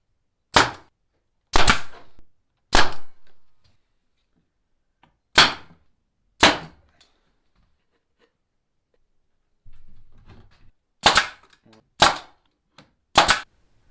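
A staple gun fires into plywood end pieces of a swarm trap, nine sharp, loud snaps spaced irregularly with quiet gaps between them and a faint handling rustle midway.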